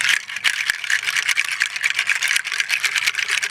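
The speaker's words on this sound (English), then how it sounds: "If you want to clear a room of negative energy, you can use rattles as one way to help doing it." A hand rattle shaken steadily and close for several seconds, giving a dense, continuous rapid rattling of loose beads or seeds with small uneven pulses, no voices over it.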